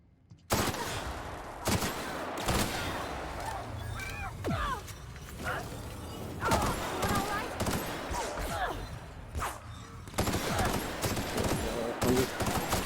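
Bursts of gunfire in The Outer Worlds, in a stone-and-steel prison labyrinth on Tartarus, sounding as scattered shots and short volleys with impacts and crashes between them, mixed with game sounds and some speech.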